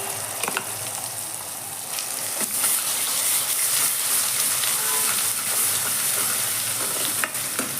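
Ground masala spices frying in a pan for Maharashtrian misal, a steady broad sizzle with scattered stirring scrapes throughout, close and alone with no talk.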